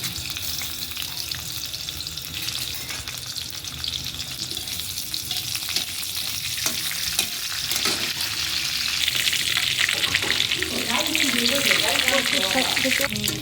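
Five-spice seeds sizzle and crackle in hot oil while cooking taro greens, a steady loud frying hiss with stirring scrapes that grows denser toward the end.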